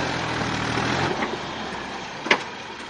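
A tractor engine runs at a steady idle, a continuous low rumble with a brief louder knock near the end, heard close with no talking.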